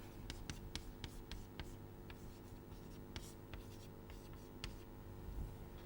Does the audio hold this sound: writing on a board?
yes